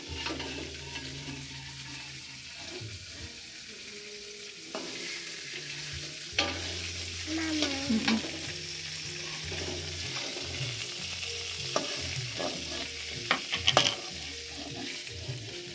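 Sea snails and crab frying in a little oil, with a steady sizzle and spatter running throughout, occasional clinks and stirring noises, and sharper pops near the end; no one speaks.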